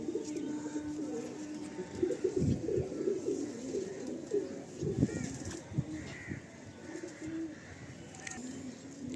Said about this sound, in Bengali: একদম সব ওড়ানো পায়রা, পুরো পাকা পায়রা, কালারও রয়েছে।